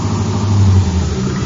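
A four-door sedan's engine rumbles low and steady as it rolls into a driveway for a 1953 radio comedy effect, loud and close with a slight swell in revs, no voices.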